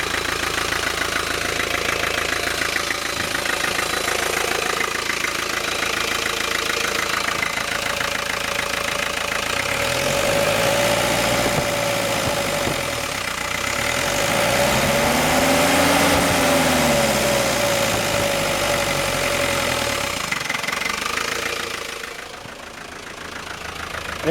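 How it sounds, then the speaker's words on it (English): The engine of a 1982 Land Rover Series III idles steadily with a rough, even rumble, nearby and loud. The pitch swells slightly in the middle as the revs rise and fall, then the level drops near the end. "Engine sounds super healthy."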